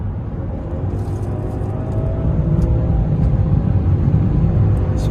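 Rising engine rumble and road noise inside a BMW 7 Series fitted with a JB4 tuner, accelerating with smooth gear shifts, loud and continuous with no talk.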